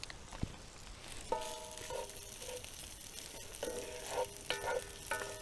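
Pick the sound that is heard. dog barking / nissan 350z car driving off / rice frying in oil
rice frying in oil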